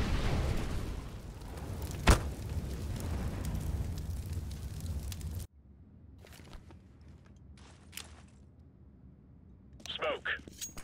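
An incendiary grenade bursts into a loud, roaring wash of flame on the Cache map in Counter-Strike, with a sharp bang partway through, then cuts to quieter game sounds and distant footsteps.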